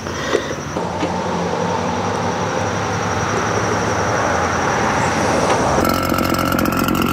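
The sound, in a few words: RedMax EBZ8500 backpack blower engine running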